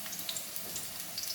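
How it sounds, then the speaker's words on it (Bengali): Garlic tempering frying in oil with onion stalks and flat beans, a steady close sizzle with small crackling pops throughout. "এখন আমি রান্না করছি রসুন ফোড়ন দিয়ে পেঁয়াজ কলি শিম ভাজা"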